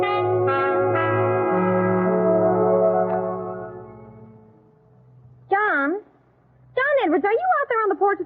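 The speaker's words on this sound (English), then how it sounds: "let's ring Mr. Edwards' bell first." Doorbell at Mr. Edwards' house ringing with long, sustained, bell-like tones that slowly decay, followed by speech after a pause.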